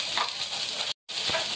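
Vegetables hit a paella pan of browned chicken in a Valencian paella, giving a steady close sizzle with soft stirring scrapes, cut by a brief moment of silence.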